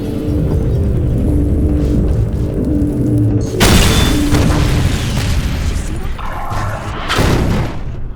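An explosion in Half-Life 2 lands as a heavy, loud boom over a dense rumbling game mix, followed by crashing debris and a second burst near the end.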